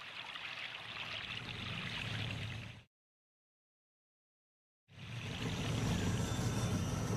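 A narrow creek flows past fallen trees, a steady rushing stream that plays for a few seconds, stops for about two seconds of silence, then resumes at the same level.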